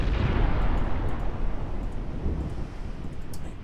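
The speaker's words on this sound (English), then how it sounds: "Torpedo away from V5." A warship firing a torpedo in the naval game Ultimate Admiral Dreadnoughts gives a heavy, booming launch blast that opens loud, then rolls into a rumbling, gradually fading wash with faint crackles.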